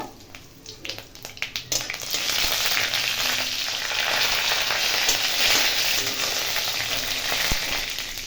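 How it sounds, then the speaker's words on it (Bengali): Dry red chili and five-spice (panch phoron) sizzle and crackle in hot oil for a Bengali lentil dish, starting with a few sharp pops, then settling into a loud, steady frying hiss close to the pan. "একটা শুকনো লঙ্কা দিয়ে দিলাম দিয়ে দিলাম এখানে পাঁচ ফোড়ন সমস্তকে একটু ভালো করে ভেজে নেব"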